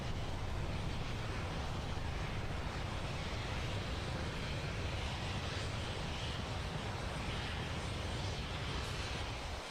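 A rocket's upper stage engine fires in Kerbal Space Program, recreating the CRS-14 mission launch: a steady, loud broadband roar with deep rumble that holds unbroken for the full length, with no voices.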